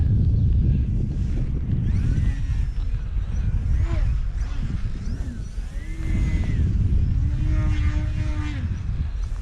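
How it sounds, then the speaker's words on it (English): Strong wind roars steadily into the microphone, with the small electric motor of a 32-inch Bayer Model Edge 540 radio-controlled plane whining and changing pitch underneath. "Oh, here comes the wind."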